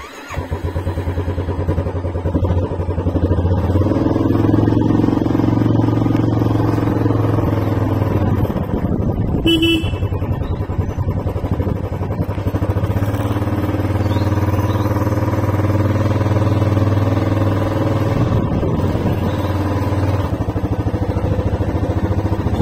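A motorcycle rides through town at dawn on the way to the Charak festival in Cossimbazar, its engine droning steadily and loud close up, with a brief high chirp partway through and the pitch shifting as it changes speed.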